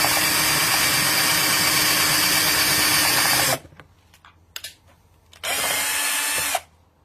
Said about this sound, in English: Okay, let's drill some holes and put this thing together.